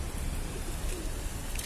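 Pigeons cooing outdoors, soft repeated coos blended into a dense wash of broadband background noise.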